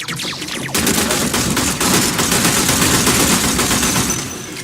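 Gunfire in the video game Warframe: after a short lead-in, rapid, sustained automatic fire crackles loudly and steadily for several seconds, easing slightly toward the end, with no talking.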